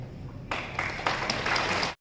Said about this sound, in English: Round of applause before I announce their names.